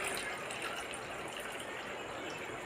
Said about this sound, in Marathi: परत पाणी टाकून धुवून घेऊया।